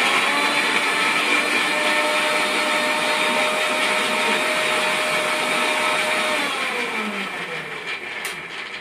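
A blender grinds ginger into paste with a loud, steady motor whine that holds constant and then drops in pitch and eases as it slows toward the end.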